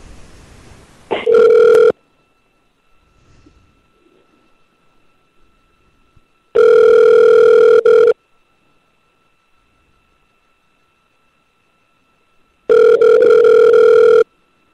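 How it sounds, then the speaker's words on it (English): A telephone rings on a call line, three loud electronic trills spaced a few seconds apart, with near silence between them. "Answer the phone, Todd."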